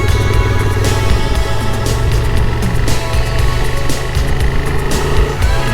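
A car cruises at road speed alongside a giant truck on a mountain road, a loud continuous engine and tire roar with heavier rumbling passing close by, no talking.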